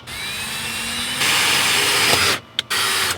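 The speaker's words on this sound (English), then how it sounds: "the hole's drilled" A power drill whines steadily and loudly, pitch shifting as it bites into a restored jon boat's hull, then stops briefly and starts again.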